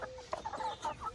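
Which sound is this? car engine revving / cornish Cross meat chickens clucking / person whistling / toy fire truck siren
cornish Cross meat chickens clucking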